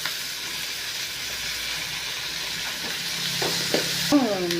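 Onions and tomatoes sauté in a pan with a soft, continuous sizzle close by, and a brief tonal squeak and a few light knocks near the end.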